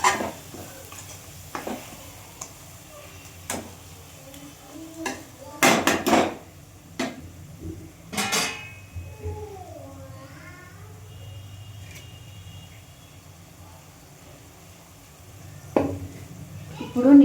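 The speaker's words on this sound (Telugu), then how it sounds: "ఆయిల్లో ఫ్రై చేద్దాం మంచిగా" Spice paste frying in oil for an Andhra fish pulusu, stirred with a utensil that scrapes and knocks against the pan, giving sharp irregular clinks over a soft, steady sizzle.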